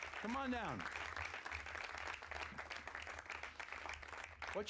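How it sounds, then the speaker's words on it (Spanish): Broad, steady crowd applause fills a church session, with a voice briefly rising over it at the start and a faint voice near the end. "Un aplauso, baja."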